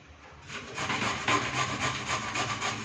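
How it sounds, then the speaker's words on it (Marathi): Potatoes being grated by hand, a close, rhythmic rasping scrape repeated in quick, even strokes, each pass a brief gritty rub against the grater. "हे बटाटा खिसतो मी आता"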